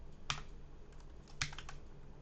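Faint typing on a computer keyboard at a desk, with a few scattered key taps and two sharper clusters of clicks over a quiet room hum.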